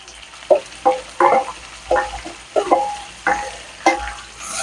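Chopped onion frying with dried anchovy thokku in a pan, stirred in about eight loud, evenly spaced scraping strokes over a soft background sizzle.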